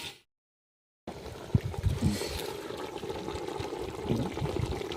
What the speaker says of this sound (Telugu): కొంచెం అయితే వాటర్ పోసుకుందాం వాటర్ వాటర్ వేస్తాం